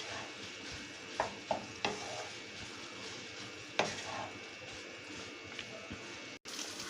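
Minced meat fries with spices in oil for a capsicum qeema, a low continuous sizzle broken by a few sharp spoon taps and scrapes against the pan, close and quiet.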